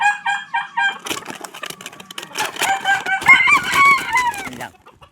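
Young bull stag gamecocks crow in turn, loud, close and overlapping, with clucking between the calls and a brief quiet before the crowing resumes.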